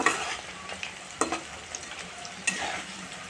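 Onions fry in a hot pan with a steady sizzle, broken by a few sharp scraping knocks as they are stirred, close and with no talking.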